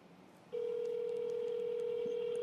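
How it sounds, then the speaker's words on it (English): During a phone call, a steady, unbroken telephone tone starts abruptly about half a second in and holds at an even level against a quiet background. "Come on, I'm calling her."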